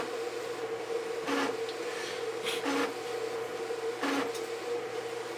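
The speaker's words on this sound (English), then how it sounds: "The printer should start up, print the file out" A printer prints out a page: a steady mechanical hum broken by several short rasping bursts at uneven intervals, close by with no talking.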